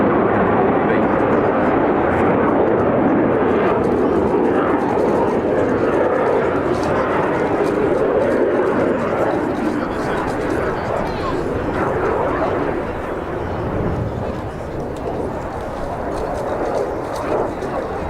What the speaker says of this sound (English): Having gone around for its initial approach by the Mirage